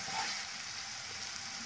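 Onions fry in oil with a pinch of caramelising sugar for an egg malai curry, a quiet, even sizzle hissing steadily throughout, fairly faint and close, with no voices.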